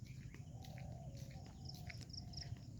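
Birds call softly in a quiet village morning among rows of palm trees, scattered chirps and short whistles drifting over a faint hum of insects, distant and gentle.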